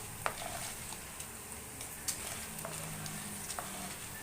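Chana dal fries in hot oil in a pan, a steady soft sizzle with occasional light stirring scrapes, quiet and close without talk.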